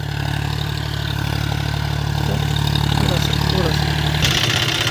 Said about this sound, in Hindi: ट्रैक्टर में भी ज़्यादा लोड नहीं पड़ रहा है, अच्छा घिंचाव दे रही है ट्रैक्टर भी, जॉन डियर का 50-45 डी मॉडल है ये